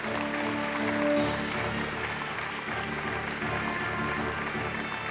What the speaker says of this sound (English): Ladies and gentlemen, with a big applause, please welcome Professor Arindam Chaudhary on the stage